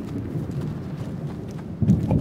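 Horse hooves clip-clop on the ground in the video game A Plague Tale: Innocence, a steady run of close hoofbeats over a low rumbling game backdrop, growing a little louder near the end.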